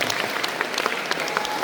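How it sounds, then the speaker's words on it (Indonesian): A short burst of clapping from a group of people at a school gathering, steady and moderately loud, with no talking. "Tepuk tangan dulu untuk kita semua."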